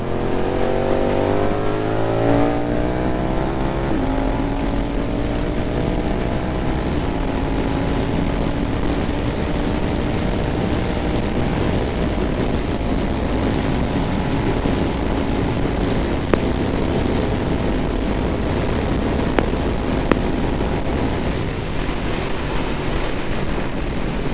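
A Suzuki GSX-8S motorcycle with a decatted exhaust roars steadily while riding at speed, its engine note rising through the gears under continuous wind rush, loud and close throughout.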